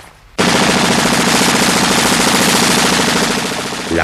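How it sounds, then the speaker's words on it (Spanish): Sustained bursts of machine gun fire in a Spanish Civil War battle scene, loud and rapid, starting abruptly after a quiet moment and continuing as a dense rattling stream that eases slightly toward the end. "al ser sorprendidas las avanzadillas de milicianos por las ametralladoras de los sublevados"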